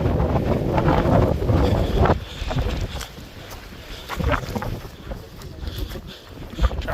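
Wind buffeting the microphone on a hike in Bolivia, a loud rumbling roar that swells and eases in gusts, with faint talk underneath.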